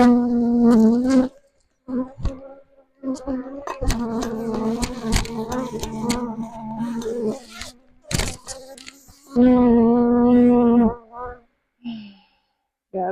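Honeybees buzz right against the microphone at a backyard hive, a loud droning hum that comes in repeated close passes with brief gaps of quiet between them.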